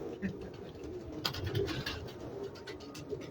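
Pigeons coo softly in short repeated calls, quiet and fairly close, over a low murmur of background noise.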